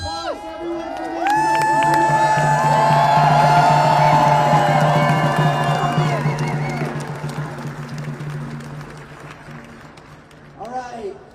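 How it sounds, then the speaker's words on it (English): Crowd at a live community rally applauding and cheering, a loud dense burst of clapping and shouts that swells, then gradually fades, with a short flare of voices at the end. "Let's give another round of applause to everyone"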